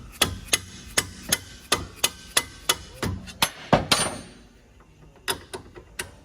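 A dead blow hammer pounds a suspension bolt on a 2021 Subaru Crosstrek during a strut install, a steady series of sharp close strikes roughly every third of a second, pausing briefly before a few more hits.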